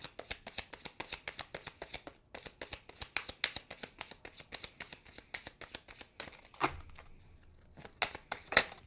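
Oracle cards are shuffled by hand in a fast, steady run of close, crisp riffling snaps, then a few separate slaps as cards are drawn, with no speech.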